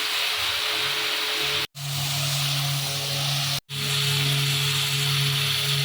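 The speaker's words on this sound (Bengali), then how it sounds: "অ্যাডজাস্ট ফ্যানটা চলছে বলে ব্যাকগ্রাউন্ডে ভীষণ আওয়াজ হচ্ছে।" A kitchen exhaust fan roars steadily and loudly above frying cauliflower on a cold winter night, a constant whooshing drone with a low hum, broken by two brief cuts to silence.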